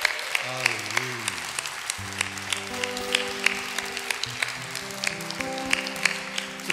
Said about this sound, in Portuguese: Você pode continuar aplaudindo por uns 30 segundos